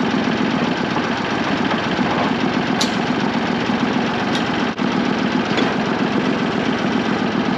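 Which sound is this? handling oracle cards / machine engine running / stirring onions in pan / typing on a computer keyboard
machine engine running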